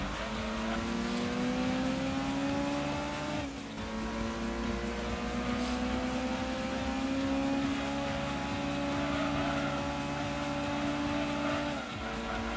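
A Honda S2000 engine in the Gran Turismo 2 racing game, revving high and continuously toward its redline with steady pitch climbs and one brief dip from a gear change, loud and sustained with no talk.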